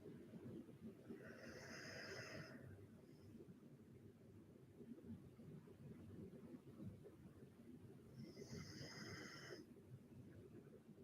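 Someone snores faintly during a quiet yoga class: two slow, drawn-out snores a few seconds apart over low background hiss.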